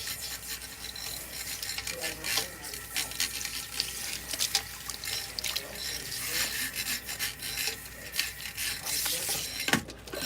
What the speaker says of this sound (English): I'm making sure that we rinse out all this shampoo.